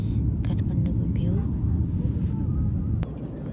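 Steady, loud cabin rumble of an airliner climbing after takeoff from Kathmandu, a continuous low drone with faint brief clicks on top.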